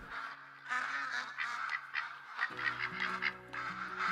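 Ducks in the hunting video game Call of the Wild, with hen mallards and a drake in a New England mountain setting, give repeated nasal quacks and honking calls at moderate distance, with no talking.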